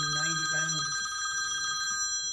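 A telephone rings in an indoor setting, a steady electronic trill with bright sustained tones running under a brief stretch of talking at the start, then continuing alone at moderate volume.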